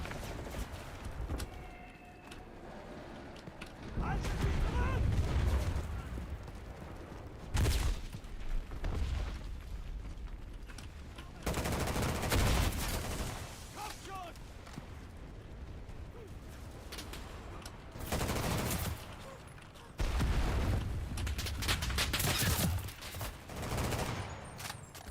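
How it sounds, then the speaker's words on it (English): Gunfire from the WWII shooter Enlisted, repeated loud volleys and bursts coming in waves with quieter gaps between them, some shots near and some more distant. "I just saw movement, and that's where I started to shoot."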